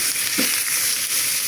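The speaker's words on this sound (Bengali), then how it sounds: "এখন টমেটোগুলোকে ফ্রাই করবো বা সেদ্ধ করবো" Tomatoes frying in a pan give off a steady close sizzle with a soft stirring scrape partway through, and no one speaks.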